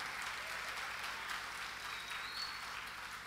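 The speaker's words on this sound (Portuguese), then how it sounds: "Que aplaudir a Jesus, aplauda." A church congregation claps during a sermon, steady, even applause that stays fairly soft and slightly distant for a few seconds, with no talking over it.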